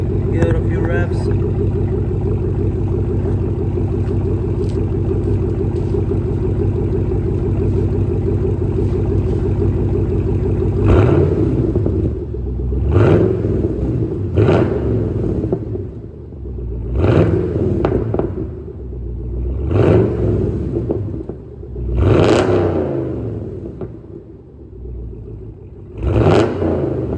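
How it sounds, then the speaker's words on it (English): A 2015 Chevrolet Camaro SS with a Borla ATAK cat-back exhaust idles with a deep, steady rumble, then revs sharply several times in short bursts, each blip rising and falling back to idle. "So, give it a few revs."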